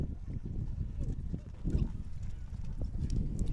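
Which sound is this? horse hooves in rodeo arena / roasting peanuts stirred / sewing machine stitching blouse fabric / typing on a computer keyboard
horse hooves in rodeo arena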